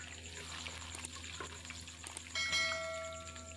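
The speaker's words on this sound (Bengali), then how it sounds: "তো আলুগুলো মিডিয়াম করে ভেজে নিব" Potatoes frying at medium heat in oil for egg biryani, a soft steady sizzle beneath a low hum, with a sudden brighter burst of crackling and a faint ringing tone late on.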